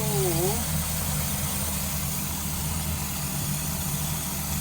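An engine idles steadily after a tune-up with new ignition points, condenser and rotor, giving an even, close, continuous low hum with a brief chirp at the very start.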